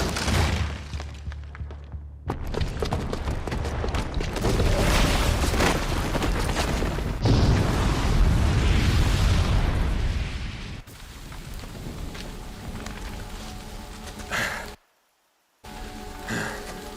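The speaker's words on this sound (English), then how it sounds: "the booby trap on the bomb downstairs is gonna get set off" A booby-trapped bomb goes off in a video game: a loud, sustained roaring blast with crackling debris and rumble that gradually thins out, broken by a short stretch of silence near the end.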